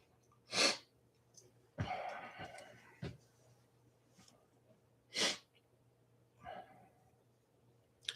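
A person sneezing and coughing close by in a quiet room: several sharp, breathy bursts spaced a few seconds apart, with softer breaths and snorts between them.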